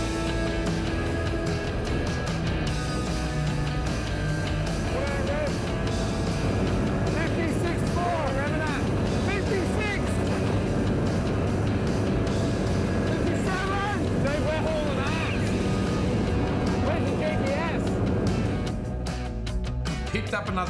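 A loud, steady outboard engine drones at high revs on a racing dinghy with wind rushing over the microphone, while people talk and shout over the noise throughout.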